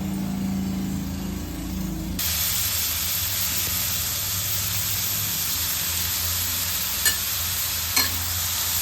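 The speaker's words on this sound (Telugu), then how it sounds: "ముందుగా ఆయిల్ వేసుకుని ఉల్లిపాయలు వేయించుకోవాలండి" Two chopped onions dropped into hot oil, bursting into a loud, steady close sizzle with a couple of brief clinks of a utensil; no speech.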